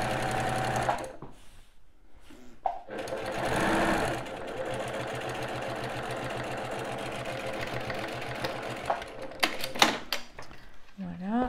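Sewing machine stitching appliqués onto a fabric pouch, a steady close mechanical whir running about eight seconds between brief pauses and handling clicks, with a voice speaking at the end.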